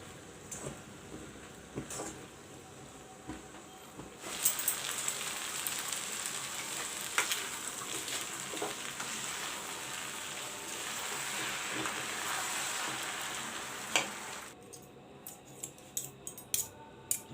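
Vegetable chow mein being tossed and mixed with salt in a hot pan, a continuous sizzle and frying hiss with scraping utensil strokes and occasional clinks, growing fuller in the middle and easing off near the end.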